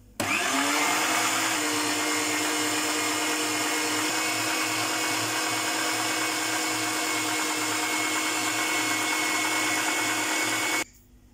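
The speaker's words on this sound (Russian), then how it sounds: "И прокручиваю на мясорубке." A motorized meat grinder mincing skinless chicken whirs loudly and steadily for about ten seconds, spinning up at the start and cutting off abruptly.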